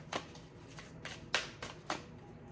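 A Halloween-themed spooky card deck being shuffled: four quick papery bursts of cards, close and fairly quiet, spaced about half a second apart with soft room hiss between them.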